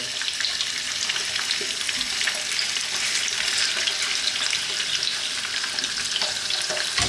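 Quail pieces seasoned with salt and pepper fry in a hot pan, giving a steady, close, broadband sizzle and crackle that holds evenly throughout with no talking.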